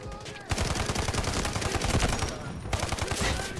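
Gunfire in the mobile shooter Delta Force, dense rapid automatic bursts of shots, loud and continuous with a short break, heard alone without talk.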